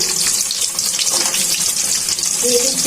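Chopped onions dropped into hot oil in a pan fry with a loud, continuous close hiss that holds steady throughout, with no breaks and no voices.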